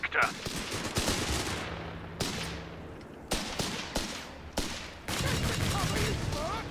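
Several infantry sections in Company of Heroes 3 fire at Panzer Grenadiers, producing sharp clustered rifle and machine-gun volleys. The reports come in distinct bursts with short gaps, set against a moderate battlefield background.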